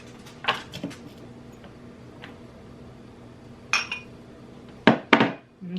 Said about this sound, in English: So we're going to mix the tomatoes that I diced up and the onions that I diced up.